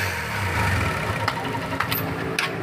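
A Honda CB 150 motorcycle engine runs at a steady idle, a close, continuous low rumble with a few faint clicks and knocks over it.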